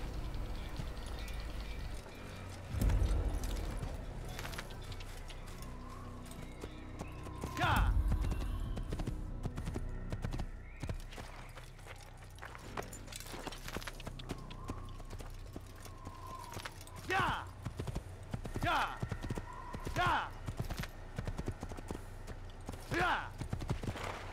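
Horse hooves clip-clop steadily in the Assassin's Creed video game, a rhythmic trotting that runs under scattered game sounds and someone talking throughout.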